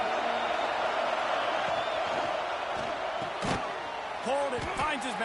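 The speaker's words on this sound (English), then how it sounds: "This crowd bringing the energy and noise early" Stadium crowd roar from a College Football 26 game, Texas Tech at Oklahoma, a dense, steady wash of cheering with a heavy thud midway and a few whooping, voice-like calls near the end.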